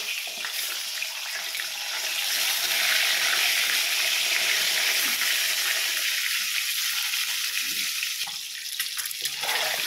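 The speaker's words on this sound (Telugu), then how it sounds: "ఇప్పుడు ఎగ్స్ కూడా ఆయిల్లో ఫ్రై చేసేసుకుందాము." Eggs frying in hot oil for an egg curry give a steady, loud broadband sizzle that runs throughout, with faint watery crackle and no voices.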